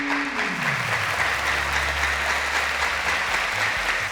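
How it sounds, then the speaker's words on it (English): A studio audience claps steadily for a departing contestant on a televised quiz show, a dense, even round of applause that fills the whole moment with no speech over it. "A round of applause to Olaoluwa."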